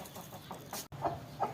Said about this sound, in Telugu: మా అత్త వాళ్ళ కోడి పుంజులు